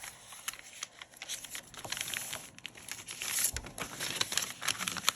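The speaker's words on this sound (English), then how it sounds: "I'm going to fold up a page aside, and I'm going to fold over" Quiet crinkling and rustling of coffee-dyed paper sheets being folded by hand, close up, with soft irregular crackles and no talking.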